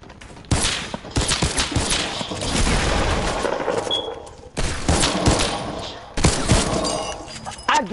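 Desert Eagle pistol shots in a one-on-one video game match, several loud sharp reports in bursts amid building clatter and game effects, close and dense with brief gaps.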